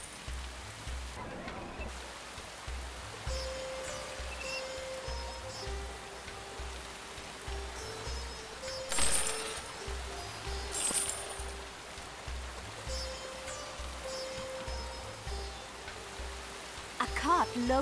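Steady rain ambience from the rainy season in the strategy game The Settlers: Rise of an Empire, a soft continuous patter running throughout alongside quiet game tones and occasional clinks.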